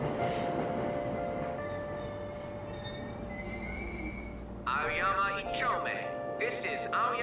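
A Tokyo subway train stands at Aoyama Itchome station with a steady electric hum and whine, then a burst of squealing, chiming tones as the doors close, loud and close throughout.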